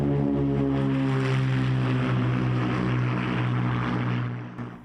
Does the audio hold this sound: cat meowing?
no